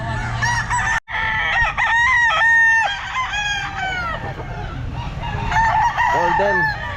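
A golden sweater gamefowl rooster at a pet market, 11 months old, crows loudly and close several times in a row with some clucking, while market noise and voices carry on in the background.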